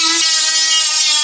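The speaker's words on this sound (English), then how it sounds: "Let me get the grinder and the sander and my whole pile of tools." An angle grinder or sander working on the roof panels and drip rails of a 1967 Chevrolet C10 truck, a loud steady high-pitched whine running continuously for over a second before cutting off abruptly.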